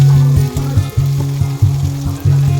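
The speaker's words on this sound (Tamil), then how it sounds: "அதனால் டீப் ஃப்ரை பண்ணுறேன்." Fish deep-frying in hot oil gives off a loud, close, continuous sizzle with a pulsing, bubbling rhythm, and no talking.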